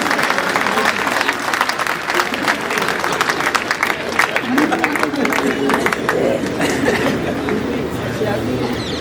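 An audience at a Hindi poetry event claps loudly and continuously, a dense sustained round of applause with crowd murmur mixed in throughout.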